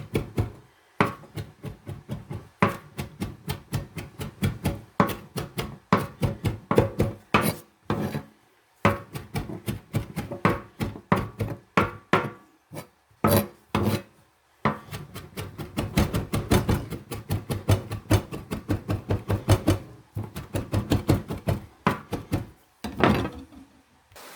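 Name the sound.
rough chopping mushrooms with a knife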